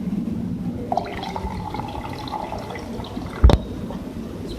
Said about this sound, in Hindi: इसमें हम ऐड करेंगे पानी।